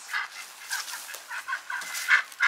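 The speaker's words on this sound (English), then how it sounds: "There's chickens and ducks." A flock of chickens clucks continuously nearby, with overlapping short calls in an uneven, busy rhythm and no voices.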